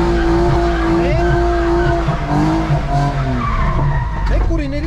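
A BMW E46 skids on dry pavement, its tires squealing in long wavering tones over a loud engine, with people talking throughout.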